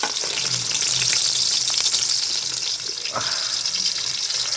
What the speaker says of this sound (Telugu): నూనె అయితే కాగేది, ఉల్లిగడ్డలు వేసుకుందామండి.